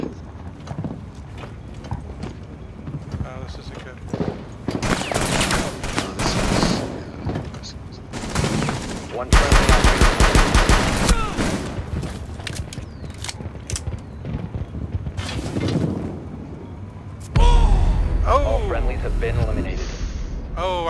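Sniper and automatic gunfire in the video game Rainbow Six Siege, with loud bursts of shots and mechanical clatter coming in waves over about twenty seconds while people talk throughout.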